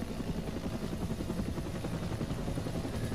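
An AH-1W Cobra attack helicopter in a military simulation game gives a steady, dense rotor and turbine drone from inside the cockpit, continuous and even with no voices.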